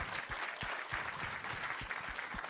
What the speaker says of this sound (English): Give a round of applause, by the way, Miss Alice Johnson,